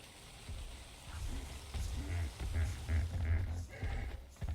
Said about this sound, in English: as soon as the rain stops, it's gonna get hot.